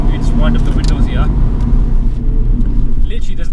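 Audi RS3 engine heard from inside the car, a steady low rumble and drone running throughout, moderately loud, with a voice speaking over it.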